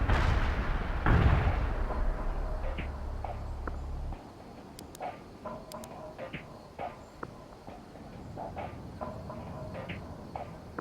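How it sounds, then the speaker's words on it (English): Artillery barrage in the video game World in Conflict, a heavy booming blast rumbling at the start, then scattered distant impacts and crackling shots of varied loudness over the following seconds. "Artillery barrage hit for full effect."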